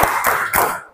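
A classroom of pupils performs a focus clap chant, giving three sharp, loud group claps in an even rhythm within a second, close and without any talking.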